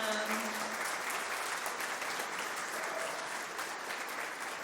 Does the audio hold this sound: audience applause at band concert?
yes